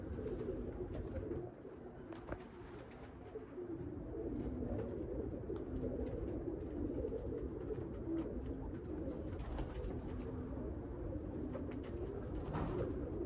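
Soft, continuous cooing from several Cumulet pigeons nearby, a low murmuring drone with occasional faint rustles.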